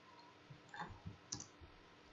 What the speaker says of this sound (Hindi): ये देखें पेस्ट पर क्लिक करता जाऊंगा